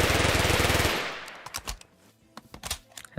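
A 9mm submachine gun from a Minecraft gun mod empties in a loud, fast continuous burst lasting about a second, followed by scattered lighter clicks and impacts.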